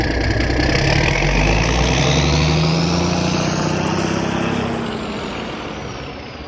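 A junkyard John Deere B tractor engine is fired up and runs with a loud, rough, close chug that stays steady, then tapers off slightly toward the end. No voices are heard.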